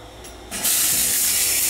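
Water bursts on with a short click, then a hotel room shower head at Paris Las Vegas sprays in a steady, loud hiss, close by.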